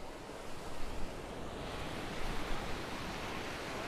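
Ocean waves wash onto a beach in a steady, broad roar of surf with gentle swells in loudness, mixed with some wind, and nobody speaking.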